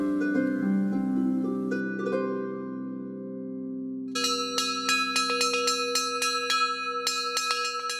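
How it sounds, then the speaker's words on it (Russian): Monastery church bells ring on a winter day: a deep, sustained bell tone fades, then a rapid cluster of smaller, higher bells chimes in repeated clanging strikes, loud and resonant. "Трудно представить монастырь без колокольного звона."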